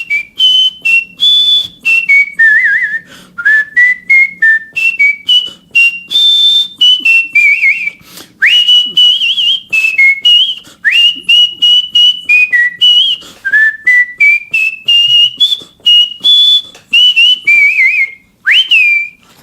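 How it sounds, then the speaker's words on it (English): A man whistles a lively blues tune solo, loud and close, with quick bouncing notes, slides and short breaths between phrases throughout. "That's great whistling, by the way."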